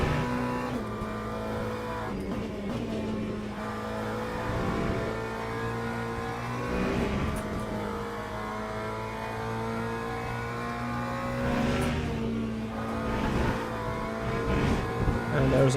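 LMGT3 race car engine at Le Mans in the sim racing game Le Mans Ultimate, a steady loud engine drone with shifting revs and brief tire noise, continuous throughout, with commentary running over it.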